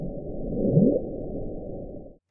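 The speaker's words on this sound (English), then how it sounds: "And then it sounds like a bloop." Deep-sea infrasound known as the Bloop, sped up sixteen times so it rises into hearing range: a low, rumbling wash of noise with a brief rising swoop near the middle, steady and fairly loud, then cutting off abruptly.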